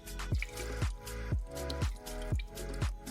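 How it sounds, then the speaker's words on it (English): Tamarind soaking water poured into a prawn and coconut mix with oil for a Kerala-style stir fry, heard as a run of wet, dripping splashes in a steady rhythm, close and fairly loud, with no talking. "I had soaked the tamarind in hot water. Pour this water into this mix."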